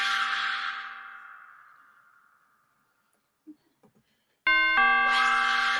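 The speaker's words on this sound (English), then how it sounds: "I don't know if I should even ring the doorbell" A two-tone doorbell chime rings out and fades slowly, followed by a few soft clicks, then the chime sounds again loud and close.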